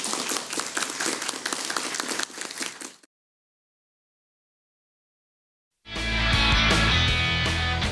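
An audience at a student quiz show claps in steady, dense applause for about three seconds, then silence follows before louder music starts.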